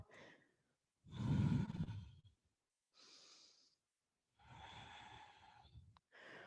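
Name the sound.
controlled breathing, inhales and exhales during exercise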